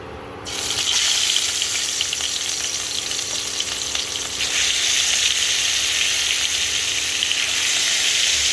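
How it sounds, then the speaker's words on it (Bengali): Small fish fry in oil in a wok, producing a loud, continuous, crackling sizzle that begins after a brief quieter moment and stays dense and close to the end. "তো এই দেখো মাছ ভাজা করে নিয়ে এসেছি"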